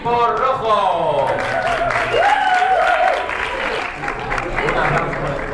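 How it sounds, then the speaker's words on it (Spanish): An improv audience breaks into applause for the red team. The clapping is steady and close, with voices speaking and calling out over it. "Un aplauso para el equipo rojo."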